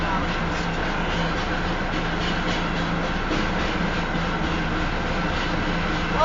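A southbound Union Pacific tanker train rolls past north of Elkhart, Iowa, producing a steady, loud rumble and rolling drone of rail cars, with a voice talking now and then over the noise.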